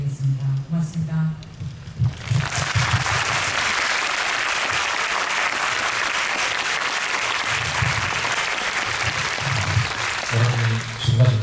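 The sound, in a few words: audience applause at film screening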